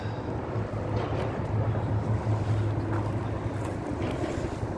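Steady wind noise and a low engine hum on a boat cruising the flooding Mississippi River near La Crosse, Wisconsin, in spring, with a continuous rumble throughout.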